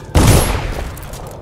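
Gunfire in the stealth action video game Dishonored: one loud, sudden blast that decays into a rumbling tail over about a second, with no speech.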